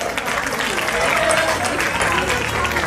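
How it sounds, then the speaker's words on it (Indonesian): An audience applauds at a graduation ceremony of a Qur'an memorization madrasah, a brief burst of dense, steady clapping with crowd noise. "Tepuk tangan untuk Ananda bertiga."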